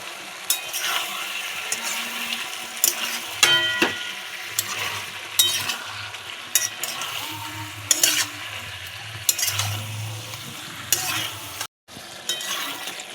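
Salted curry mixture stirred in a frying pan, with a steady sizzle under repeated scraping and clinking of the spoon against the pan, and a brief pause near the end.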